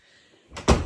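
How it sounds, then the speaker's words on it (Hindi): A closet door swings shut after a brief silence, giving a short soft rush followed by a solid close-range thud at the end. "ये क्लोजेट का दरवाज़ा बंद करे।"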